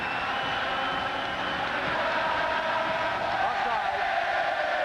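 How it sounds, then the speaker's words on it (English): Stadium crowd at a CFL East Final football game in Montreal, Alouettes against Winnipeg Blue Bombers, singing a familiar refrain together, a dense, steady roar of many voices that holds throughout at even loudness. "you can hear the crowd here with that familiar refrain that you used to hear at Canadians games"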